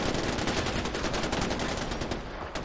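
Rapid, sustained gunfire at a shooting range in the video game Far Cry 4, a dense loud burst of shots running continuously through the clip with no talk over it.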